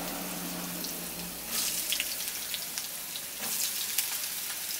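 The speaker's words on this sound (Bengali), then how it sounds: "প্রথমেই তেলের মধ্যে আলুগুলোকে ভেজে নেব।" Potatoes frying in mustard oil in a wok for a Bengali vegetarian ghugni: a steady close sizzle that swells into two louder crackling bursts partway through, with no talking.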